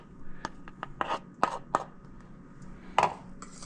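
Elderflowers being stirred into hot sugar syrup in a pot, heard as scattered scraping and rasping strokes with a few sharper knocks, close and fairly quiet, without talk.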